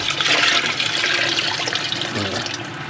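Water rushes and splashes steadily as it is poured into a large cooking pot, sized for more than six people, for couscous. The gushing is loud and close throughout.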